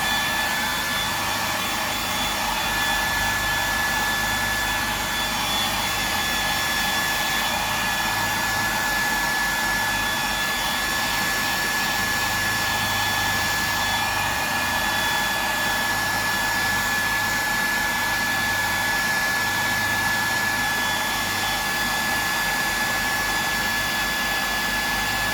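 A hair dryer blows with a loud, steady whoosh and whine that holds constant throughout, with no talk over it.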